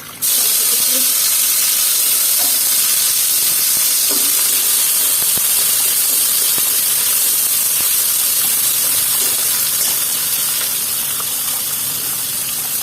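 Whole five-spice (panch phoron) and a dried red chilli hit hot oil while cooking a vegetarian banana-flower ghonto, giving a loud, steady broadband sizzle and hiss that holds for the whole stretch, easing slightly toward the end.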